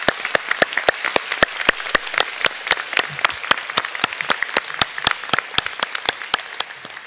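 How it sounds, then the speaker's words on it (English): Graduation ceremony audience at SIT applauding lecturers and tutors with steady, evenly paced claps, loud and crisp, keeping an almost metronomic rhythm for several seconds before easing off slightly at the end. "With another round of applause."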